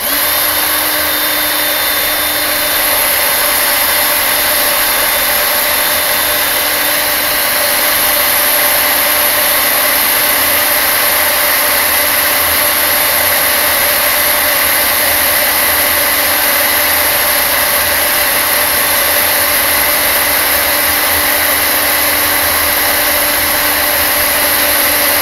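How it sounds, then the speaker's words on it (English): A power drill whines steadily and loudly the whole time, a continuous high-pitched grinding as it bores pilot holes into metal diamond plate, with no talking. "it takes me that long to drill the pilot holes"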